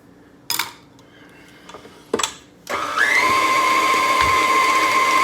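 Electric mixer beating cheesecake batter with sugar, starting after a few clinks and knocks of kitchenware, then settling into a loud, steady whirring drone that holds to the end.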